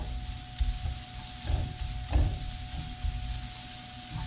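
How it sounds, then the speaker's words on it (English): Sliced onions sizzle steadily in a pan while being stirred, with a low, even frying hiss broken by a few soft scraping thumps from the stirring. "back at the uh, sliced onions, we're gonna stir those around a little bit"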